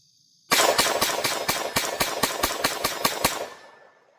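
A Taurus TX22 Compact .22 pistol fires a rapid string of about thirteen sharp, evenly spaced shots, loud and close, with no talking.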